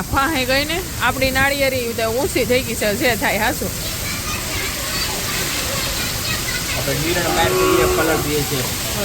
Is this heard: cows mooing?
yes